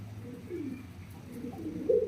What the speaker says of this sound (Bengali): খুবই সুন্দরভাবে ডাকতেছে। এক জোড়া মিলি কালারের ভিতরে লাহোরি কবুতর দেখা দিচ্ছে।